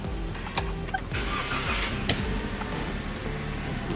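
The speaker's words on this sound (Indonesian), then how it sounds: "Oke, sekarang kita akan nyalakan mesinnya ya." A Toyota Rush TRD Sportivo with an automatic gearbox is push-button started, the engine cranking and catching with a brief rise before settling into a smooth, quiet idle heard close up.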